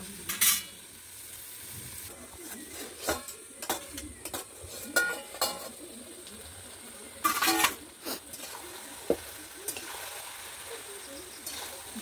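Malabar spinach and pumpkin stirred in a pan, a spoon scraping and clattering against the metal in irregular bursts over a low steady sizzle, close by.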